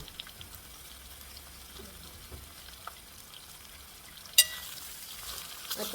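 Sliced bitter gourd (karela) fries in a pan with a faint, steady sizzle, broken by soft scraping stirs and one sharp clink of the spoon against the pan.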